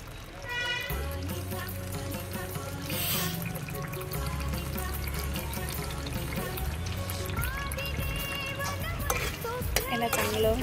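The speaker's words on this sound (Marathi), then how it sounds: "आता पाण्यात भिजू घातलेले पनीर टाकून द्यायचं." Soaked paneer goes into spiced masala frying in oil, bringing a gentle sizzle with stirring and scraping under steady background music.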